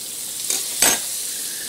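Butter hitting a hot cast iron frying pan, giving a brief soft sizzle that swells into a louder burst of frying hiss, heard close with no talk.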